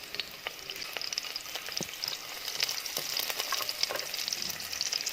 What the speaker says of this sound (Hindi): अब मैंने यहाँ पे ऑयल के अंदर लहसुन डाल दिया